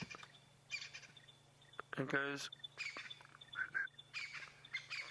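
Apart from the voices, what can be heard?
Stierling's wren-warbler calling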